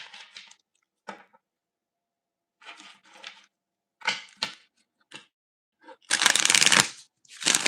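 New tarot cards are shuffled close up in short crisp riffles and rustles separated by silent gaps, ending in one longer, louder flurry of cards.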